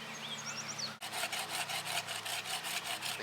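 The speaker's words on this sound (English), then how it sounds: "Just let the saw do its work here." A hand saw cuts through wood in a quiet workshop, making a steady run of rhythmic rasping strokes, about three per second, close and fairly soft, with no talking.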